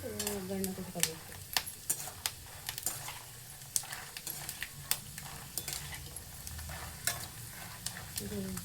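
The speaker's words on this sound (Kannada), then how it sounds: "ಕರಿಬೇವು, ಬೆಳ್ಳುಳ್ಳಿ ಸ್ವಲ್ಪ ಒಗ್ಗರಣೆ ಮಾಡ್ಕೋಬೇಕು." Curry leaves and garlic tempering in hot oil, a continuous sizzle with frequent sharp scraping and tapping of a spoon against the pan at irregular intervals.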